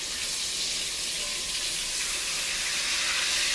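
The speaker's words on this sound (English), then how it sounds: "The fish is browning" Fish browning in oil in a pot on a home stove gives a loud, steady frying sizzle with a dense hiss that runs unbroken and close throughout, with no voices.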